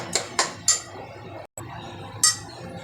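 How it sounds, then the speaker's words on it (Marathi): Cooked white peas go into fried masala in a pan for misal, with a few sharp metallic clinks of a spoon against the pan and quiet sizzling between them. "आपण आता याच्यामध्ये वाटाणे टाकून घेऊया."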